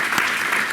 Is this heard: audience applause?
yes